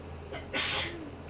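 A single close sneeze bursts out sharply after a short intake of breath, then fades against a quiet room background.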